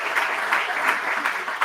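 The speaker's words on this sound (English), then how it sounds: "give yourselves a round of applause" A school audience applauds student ambassadors at a Toastmasters event: dense, steady clapping for a short stretch with a few louder claps, no talk.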